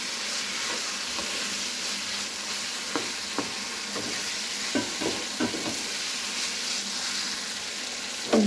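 Vegetables hit hot, already-cooked spices in a wok and fry with a steady, fairly quiet sizzle, broken by occasional scrapes and clicks of stirring.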